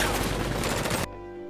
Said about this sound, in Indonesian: Dia lalu memberondongkan senjatanya.